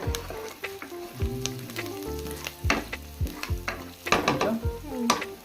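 Spices for kuzhambu crackle and sizzle in hot oil in a pan during tempering, with sharp pops and stirring scrapes in irregular bursts, close and fairly loud, no talk.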